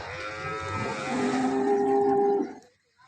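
A cow moos in one long, loud, low call that swells and then cuts off, with no voices around it.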